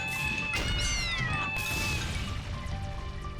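Cats meowing in the tactical video game Fantasy Maiden Wars, several rising and falling meows overlapping in a dense mix of game effects and background music.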